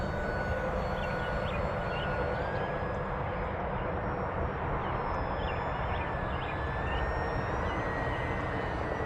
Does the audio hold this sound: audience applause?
no